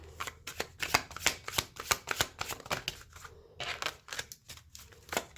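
Tarot cards are shuffled in quick riffling bursts, a rapid run of crisp papery slaps that pauses briefly and then resumes, close and fairly soft with no voice.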